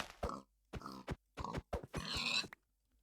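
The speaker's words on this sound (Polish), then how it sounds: "O, świnia." A pig in the Minecraft video game grunts in a rapid series of short, clear oinks, several close bursts with brief silent gaps between them.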